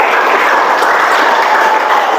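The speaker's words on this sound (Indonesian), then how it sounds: "Tepuk tangan untuk keempat yang udah jawab tadi." Classroom applause for four students who answered a maths question, a steady dense wash of clapping from a group, fairly close and continuous without talk.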